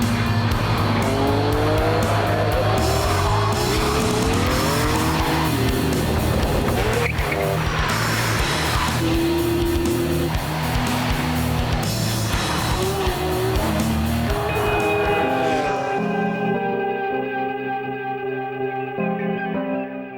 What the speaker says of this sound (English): The Enzo is beautifully put together and super fast on the track, as you would expect from Ferrari.